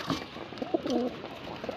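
Pigeons coo softly in a few low, throaty bursts, fairly close but quiet, with a faint background hiss and no talking.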